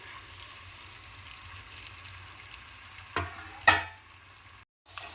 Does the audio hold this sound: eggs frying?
yes